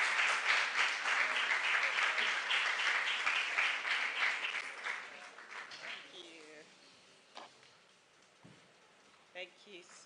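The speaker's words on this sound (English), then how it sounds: "So let's give a big round of applause to Mrs. Aya Ayete." Audience applause at a STEM camp event, loud and dense at first, then thinning out and fading to scattered claps, with voices underneath.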